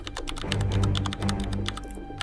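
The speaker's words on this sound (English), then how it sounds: "So we open terminal by typing Ctrl-Alt-T" Fingers type quickly on a computer keyboard while entering commands in a Linux terminal, a close, dense patter of key clicks with brief pauses between bursts.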